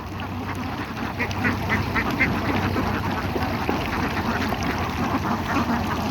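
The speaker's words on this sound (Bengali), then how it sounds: "অনেক হাঁস এখান" Ducks quack over and over in a busy, overlapping flock beside a river in Bangladesh, with steady rushing river water underneath.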